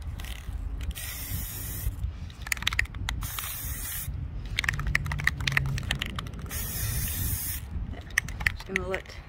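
Spray paint can hissing onto glass outdoors, several long bursts of spray separated by short pauses, with a can rattle near the end and no talking.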